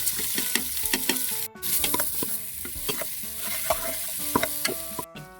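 Onion, ginger, garlic and red and green chili sautéing in a pan for papaitan, a busy sizzle punctuated by repeated sharp scraping and tapping strokes of a stirring utensil, close and without talk.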